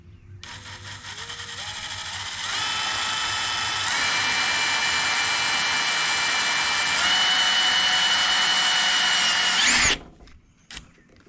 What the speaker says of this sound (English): I've got my cordless drill with a 3/16 inch bit.